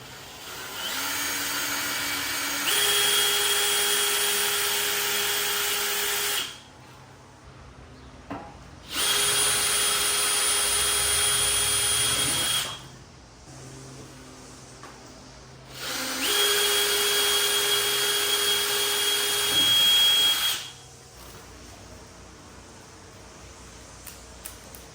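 A power drill fitted with a drill bit whines loudly in three long bursts, each lasting several seconds, separated by short pauses of quieter background noise, while drilling mounting holes for a Jeep Gladiator front bumper.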